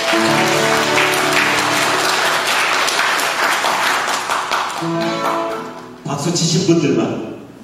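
A church congregation at a praise worship gathering claps together, with broad applause running under a loud voice and musical tones that dominate the clip.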